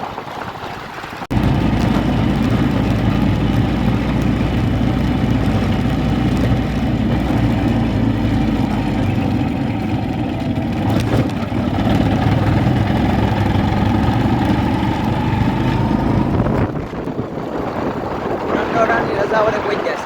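Motorbike engine running steadily on a ride toward Dhudhsar after refuelling with petrol, a loud continuous close drone that holds for most of the stretch before briefly dropping away near the end.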